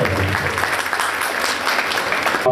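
An audience at a hospital event applauds to welcome mothers, loud dense clapping from a crowd continuing steadily throughout.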